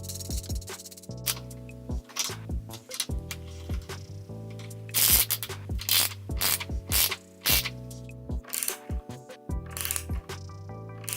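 A ratchet tightens the mounting bolts and washers on a VEVOR 4.5-inch engineer's vice, with rapid clicking pawl bursts repeating in quick strokes and brief pauses, close and fairly loud with no talking.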